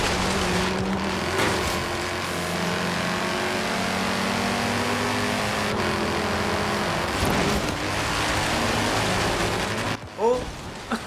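A Mercedes-AMG GTS in Forza Horizon 3 slides sideways, its engine holding a steady, layered drone throughout with a brief loud burst near the end.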